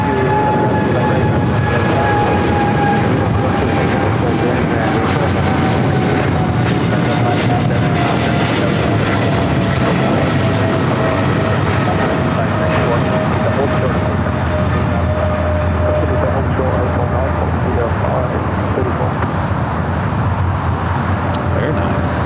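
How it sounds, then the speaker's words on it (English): Aerologic Boeing 777 freighter taking off from runway 25 right at LAX, a loud sustained jet roar with slowly shifting whining tones and faint voices underneath. "Aerologic, the 777 freighter, early rotation off of 25 right, flight heading to Atlanta, Georgia"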